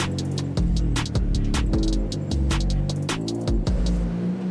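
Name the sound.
Nissan S14 car driven onto the garage ramp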